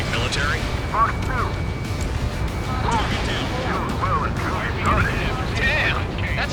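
A missile explosion in the flight combat game Ace Combat 7 rolls out as a continuous low rumble of blasts, with voices talking over it.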